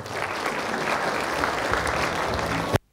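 An audience at an award ceremony applauds a teacher, a dense, even burst of clapping that holds steady for a few seconds and then stops abruptly.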